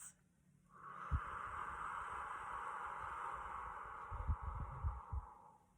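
A relaxation exercise for children, with a slow, steady breath out through the mouth. The soft, breathy hiss lasts several seconds and is heard up close, with faint low thumps near the end.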